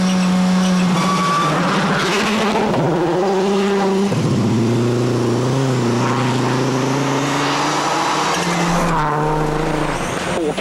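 A Mitsubishi rally car roars loudly on a snow and ice stage of Rally Sweden, its engine rising and falling through gear changes with sustained high revs as it passes close, no talk over it.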